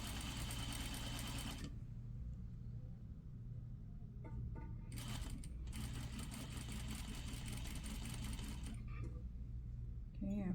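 A sewing machine stitches a slash pocket in long steady runs, stopping briefly and starting again, close and even, with a voice talking over it.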